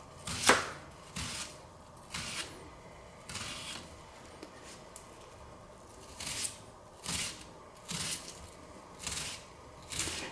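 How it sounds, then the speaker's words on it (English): Knife mincing red onion on a cutting board: a series of crisp, evenly spaced chops, close and fairly quiet, with brief pauses between strokes. "I'm just cutting down the face until we have a 1/4 cup. And you can see it's mincing it quite nicely"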